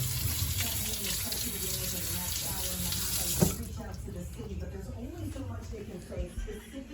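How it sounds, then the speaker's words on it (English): Peppers washed under a running kitchen tap, water gushing steadily into the sink for a few seconds then cutting to softer splashing and handling, with someone talking over it. "And then you're going to want to wash your peppers."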